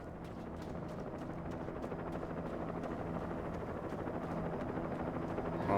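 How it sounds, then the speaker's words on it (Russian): Helicopter in the video game Alan Wake: a steady, loud rotor thrum with rhythmic blade chop that holds throughout and swells slightly at the end. "Это вертолет."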